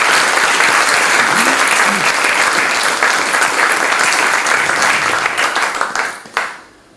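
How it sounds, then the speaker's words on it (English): Loud, dense applause from a conference audience at an agile software event on the beach in Cornwall, steady for about six seconds before trailing off into scattered claps. "So big round of applause for all our..."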